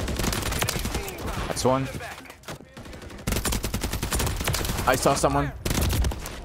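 Rapid gunfire in the Call of Duty Modern Warfare III video game, dense loud automatic bursts through most of the stretch with a short lull in the middle, while a player talks over it.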